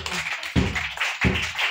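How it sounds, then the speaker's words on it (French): Church congregation clapping in praise during a French-language service, steady rhythmic hand claps close by, with regular accented beats. "nous allons applaudir le Seigneur"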